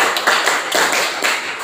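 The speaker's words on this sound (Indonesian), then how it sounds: "Tepuk ganda." A classroom of students clapping in a rhythmic double-clap pattern, sharp bursts of claps grouped in regular repeating beats, loud and close.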